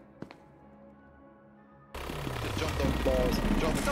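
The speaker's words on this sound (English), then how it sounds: "Why is the gunfire in this game the loudest thing in the world?" Near silence with a single faint click gives way to a sudden, loud wall of dense gunfire in SCP: Secret Laboratory that continues unbroken to the end, with a voice talking through it.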